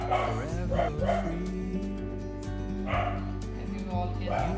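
A pet dog barks and yips repeatedly at close range indoors, several high harmonic bursts spaced over a few seconds, with some whimpering tones between them.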